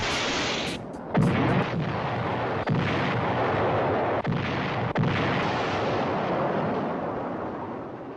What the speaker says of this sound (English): apparently has an F-4 that fires rockets by pulling a lever